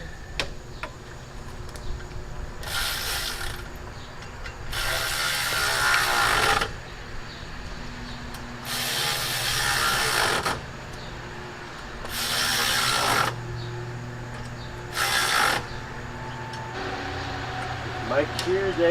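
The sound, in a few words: electric ratchet working on a car engine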